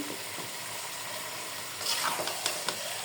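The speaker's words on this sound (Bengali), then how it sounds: "একবারে ভাজা ভাজা করে রান্না করে দিব" Chicken frying in a home kitchen pan gives off a steady, soft sizzle, broken near the end by a few louder scraping stirs and splashy bursts.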